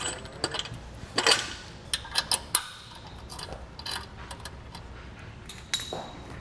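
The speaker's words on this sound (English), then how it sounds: "pick up a 3/4 inch socket and wrench to tighten down your anti-rattle bolt" A socket wrench tightens the anti-rattle bolt on a RockyMounts GuideRail hitch bike rack, heard as scattered clicks and metallic ratcheting taps up close, some sharper than others, over a quiet background.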